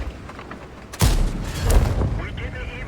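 A tank gun fires once in a tank battle video game, a sudden loud boom with a rumbling tail, followed by a low battle din.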